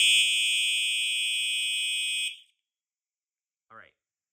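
A Simplex 4901-9822 fire alarm horn sounds on continuous coding: one loud, unbroken, harsh electronic blare for about two seconds, then it cuts off into silence, followed by a brief faint blip.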